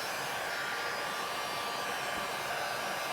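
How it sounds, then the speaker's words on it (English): A heat gun blows steadily on a chalk-painted t-shirt, a loud, continuous broadband whoosh with no voices over it for the whole stretch. "we're going to go ahead and start drying this out. Just a little bit using the heat gun."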